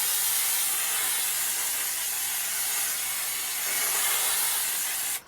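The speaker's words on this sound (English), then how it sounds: "you also want to spray a bit on the back of your insulation" Aerosol spray adhesive hissing steadily onto the back of thin insulation panels during a budget camper van build, a close, continuous broadband spray that cuts off abruptly at the end.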